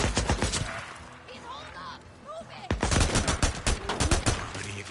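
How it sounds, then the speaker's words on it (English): Rapid gunfire in the Days Gone video game, bursts of close shots at the start and dense automatic fire in the second half, with voices talking between the volleys. "Can't see where they're shooting from."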